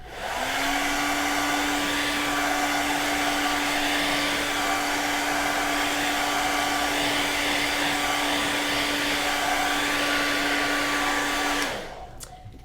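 A loud, steady hair-dryer-style blower roars continuously for several seconds while drying paint on a wooden Christmas sign, then cuts off abruptly near the end.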